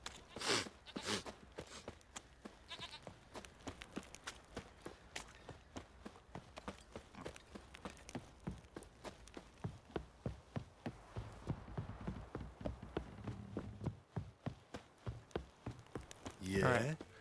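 Horse hooves clip-clop in a steady, fairly quick rhythm of repeated thuds in the Witcher 3 video game, continuing throughout with a brief louder burst near the end.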